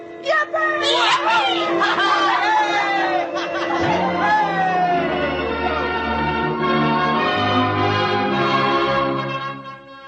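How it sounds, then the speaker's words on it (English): Bells of Baptist, Congregationalist and Roman Catholic churches ring out amid a lively crowd, with excited voices and cheering layered over the tolling. "The bells of the Baptist, the Congregationalists, and the Roman Catholic Church were ringing."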